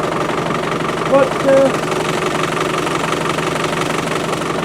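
A cold Isuzu 4BD1T diesel engine idles at -4°C after startup with a steady low knocking rumble, close by, as a voice briefly speaks over it.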